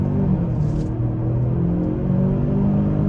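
A 2023 Genesis GV70 Sport Prestige SUV accelerates on the road, its engine rumbling and revving steadily upward from inside the cabin, with no voices.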